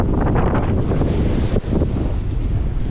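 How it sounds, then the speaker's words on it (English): Sea waves rush continuously beneath heavy wind gusts on a ferry crossing from Ibiza to Formentera, forming a dense, steady roar with one brief dip partway through. "waves."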